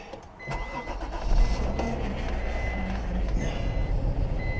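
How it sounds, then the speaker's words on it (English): An Acura car that overheats and idles roughly when cold starts up nearby, the starter cranking before the engine catches and settles into a steady running rumble, with a few short electronic beeps mixed in. "I'm going to start the car."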